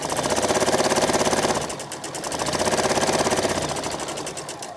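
A sewing machine stitches fabric steadily close by, a fast rhythmic chatter that slows briefly midway and then picks up again, with no talk.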